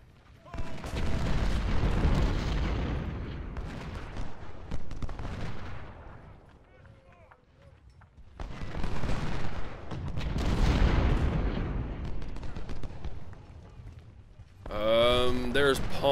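Musket volleys and artillery fire in the Civil War strategy game Ultimate General at Pittsburg Landing, two long rumbling bursts of massed gunfire and booms separated by a quieter lull, with a voice heard near the end.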